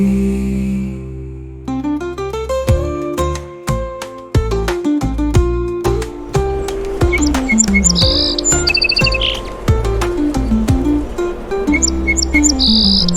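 A small sparrow-like bird chirping and singing, with bright, quick high chirps and trills over a plucked, melodic musical backing, growing busier in the second half.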